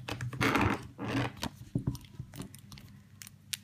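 Small scissors snip through thin nail art film in a series of quick, close crisp cuts, with a few irregular clicks trailing off into quiet.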